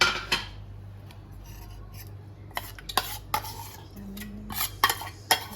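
A spoon stirs and scrapes through Yongchak chutney with onion, tomato, chilies and garlic, giving repeated close metallic clinks and scraping rubs against the bowl in an irregular rhythm.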